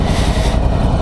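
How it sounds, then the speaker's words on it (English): Big air-cooled V-twin engine of a Ducati Multistrada 1100S motorcycle running close by, a loud, steady throbbing drone with no other sounds. "big old air-cooled V-twin"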